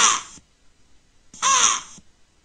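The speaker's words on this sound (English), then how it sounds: "Black birds." Two harsh caws from a crow, moderately near, each about half a second long and separated by a pause of roughly one second, with no talk over them.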